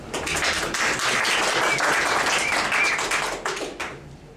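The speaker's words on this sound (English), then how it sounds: "if we could just have a round of applause for our guest, Desmond Painter." An audience at a talk gives a round of applause for a guest speaker, a full burst of many hands clapping that holds steady, then thins out and stops.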